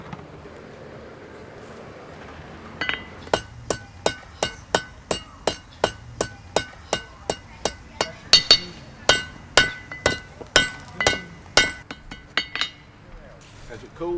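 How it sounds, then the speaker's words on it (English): Blacksmith's hammer ringing on hot iron over an anvil at a historic battleground forge, a steady run of about thirty sharp metallic strikes close by, evenly paced with a brief pause midway and a faint voice before they start. "And then we'll come to the anvil and form it the way we want it to be."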